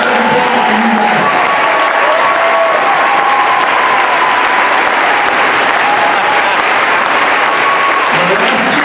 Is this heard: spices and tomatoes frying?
no